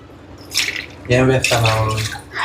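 Water is poured from a glass into a pan on the stove while making rava upma, a short splashing gush heard close and loud, with a voice speaking over part of it.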